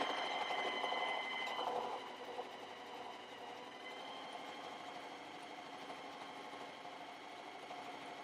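A sewing machine runs continuously as it stitches a fabric bowl koozie from corner to corner, a fast even mechanical chatter heard close up, a little louder for the first two seconds and then steady.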